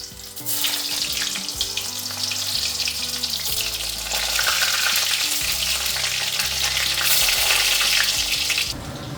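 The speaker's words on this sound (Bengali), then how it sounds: "এর মধ্যে আমি আলুগুলো ভেজে নেব" Half-cooked potatoes fry in hot oil in a pan for a curry, giving a loud, steady sizzle and crackle that runs nearly nine seconds alone before cutting off abruptly.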